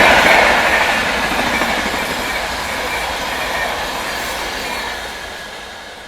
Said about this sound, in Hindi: दो ओवर ट्रेनें, वो भी राजधानी ट्रेनें ओवरटेक मारी जा रही है